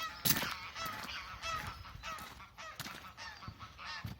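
Geese honk loudly and repeatedly at a carp fishery in spring, a noisy overlapping chorus of harsh calls close by with no pause between them.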